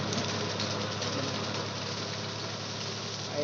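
A small walk-behind tractor engine runs steadily nearby, mowing grass, with an even, chugging drone that holds constant throughout.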